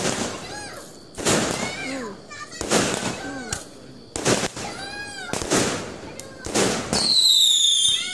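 Fireworks burst at night during a Raya celebration, with repeated loud booms and crackling whistles at irregular intervals, close by, while children's voices and other people talk and shout in between.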